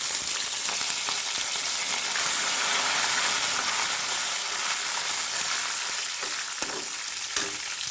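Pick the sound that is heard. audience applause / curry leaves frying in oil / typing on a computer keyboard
curry leaves frying in oil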